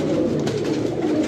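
Teddy pigeon cooing close by, a soft low throaty warble sustained over a moment.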